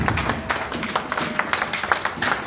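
A church congregation claps and applauds in a dense, steady burst of many hands, close and fairly loud, with little voice underneath.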